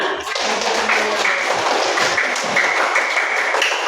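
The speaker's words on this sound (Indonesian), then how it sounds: "Ya, tepuk tangan." Group of hands clapping in applause in a classroom, dense, steady and close, filling the whole stretch without talk.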